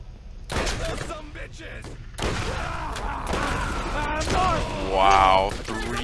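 Gunfire in the Borderlands video game, The Secret Armory of General Knoxx, with shots and bursts running nearly the whole time under game effects and steady loud action.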